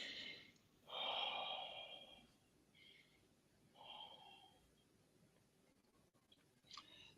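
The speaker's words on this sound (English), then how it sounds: "Breathe in 3 times, just normal breathing." A person breathes normally during a breathing exercise, giving a few audible breaths: a strong inhale-exhale early on and softer ones after, close and quiet, against a faint background hiss.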